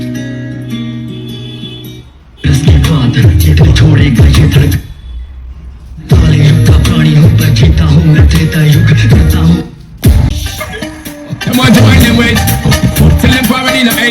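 Music played back loud through a Zeb BT9500 tower speaker with a heavy bass-rich sound, cutting in and out with short gaps between bursts.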